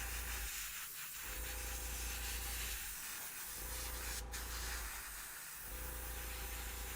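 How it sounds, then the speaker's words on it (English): An airbrush compressor drones steadily and loudly throughout, its hum dipping briefly three times in a regular pattern, with a short hiss partway through. "apologies if the compressor is really loud on this thing"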